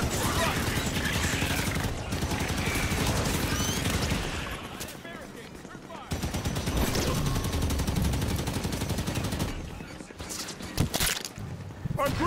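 Rapid enemy gunfire in Halo 5: Guardians, bursts of automatic shots crackling nearly nonstop and loud through most of the stretch, with brief lulls around the middle and near the end.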